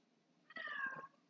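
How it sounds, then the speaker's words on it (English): A neighbor's cat gives one short, faint meow, heard in the distance in an otherwise quiet room. "If you hear a cat meowing, that's my neighbor's cat."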